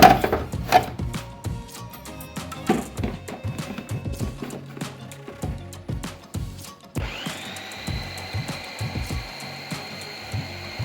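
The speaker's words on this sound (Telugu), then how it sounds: "ఒక్కసారి దీన్ని చాప్ చేస్తాను నేను." A knife chops green chilies, coriander and onion on a board, a steady run of sharp, quick cuts close by, with a whining tone rising partway through underneath the chopping.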